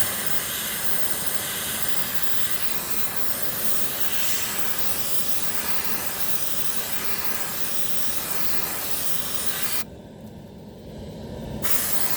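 Aerosol disinfectant hisses steadily into the air-conditioning intake of a Hyundai Santa Fe for about ten seconds, a loud continuous spray over the blowing vent, briefly cut off near the end before resuming.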